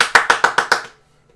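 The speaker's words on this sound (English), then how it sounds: "I applaud." Six quick, crisp hand claps in a steady rhythm, close and loud, then silence.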